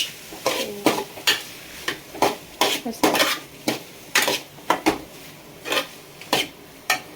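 A utensil stirs fried capsicum in a metal pan, making a close, rhythmic series of sharp clanks and scrapes against the pan over a faint sizzle, with no voices.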